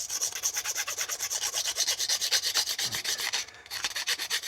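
Plastic edges being rubbed down by hand, a steady rhythmic rasping stroke repeated evenly back and forth, close and fairly loud, with a brief pause near the end and no voices.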